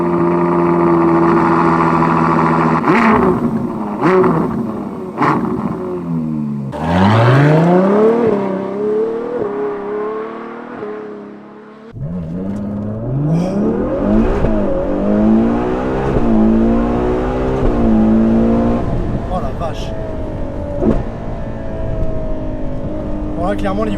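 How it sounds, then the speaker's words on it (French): A Ferrari 812 GTS with an 800-horsepower V12 cranks and fires up with a rising roar, then settles and is revved repeatedly in loud, close sweeps, with someone talking at times. "on va te faire écouter en démarrant cette sublime 812 GTS"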